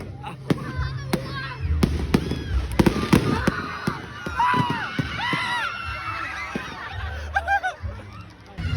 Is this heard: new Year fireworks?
yes